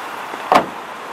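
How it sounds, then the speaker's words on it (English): A car door shuts once in a single short, firm thud heard close by, with a quiet background before and after. "Shut the door."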